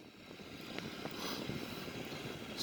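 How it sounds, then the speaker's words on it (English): Jet engines of a Sukhoi-30 in a flight simulator game spool up from a low rumble into a steady, rising whine with a broad rushing hiss. The sound is continuous and moderately loud, with no talking. "so we can start the engines now."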